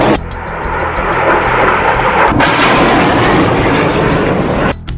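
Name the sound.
Hamas rockets being fired in succession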